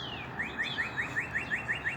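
A pet bird chirps a quick series of about nine rising, whistle-like notes in an even rhythm, close and clear over a soft background hum.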